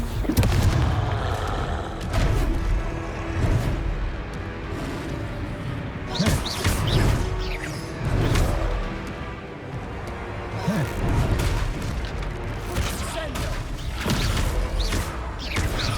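Confringo blasting spells explode during combat in Hogwarts Legacy, a run of heavy booms and crashing impacts recurring every couple of seconds over a busy rumbling game soundscape, with a voice faintly in the mix.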